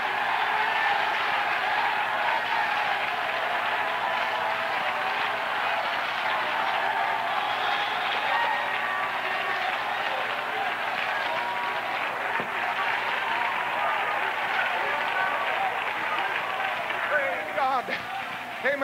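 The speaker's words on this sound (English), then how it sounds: "clap your hands, all ye people" A church congregation claps their hands continuously, a dense, steady wash of applause filling the room at a fairly loud level, with a few voices faintly mixed in.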